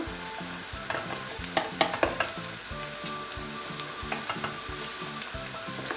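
Pepper paste fries steadily in a pan for bulgur pilaf, a close continuous sizzle with a few sharp clinks and scrapes of stirring and no talk.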